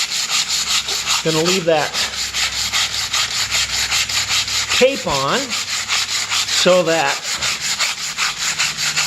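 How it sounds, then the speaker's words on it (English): Steady back-and-forth rasp of 120-grit sandpaper rubbing over a hardwood floor, close and continuous, with a few brief spoken words over it. "we're using some sandpaper, 120 grit here. Do an initial sanding."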